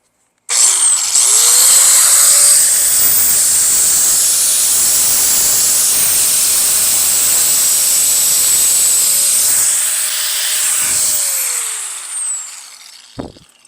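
Cable being cut for a backyard smoker build, a loud, steady, high hissing roar like a torch or power cutter that runs nearly unbroken for about twelve seconds before cutting out, then a sharp click.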